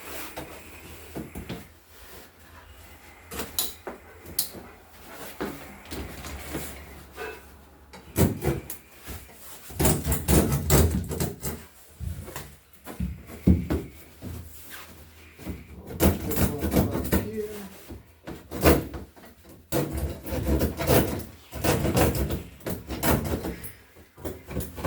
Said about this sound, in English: We may have to trim it out a little bit more